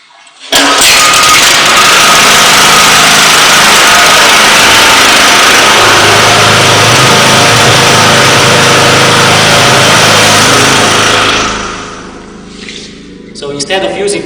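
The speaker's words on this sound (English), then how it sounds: "We will start electrical generator, position it into the box and cover it." An electrical generator starts abruptly and runs at a loud, steady roar for about eleven seconds before its level drops, as if muffled inside an insulated box, with knocking and handling noise at the end.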